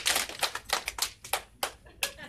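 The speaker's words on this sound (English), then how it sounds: "Everybody clap your hands one time." Audience in a leadership seminar clapping their hands, heard as a ragged series of sharp, scattered claps from many people at once rather than one clean clap, fairly close and moderately loud.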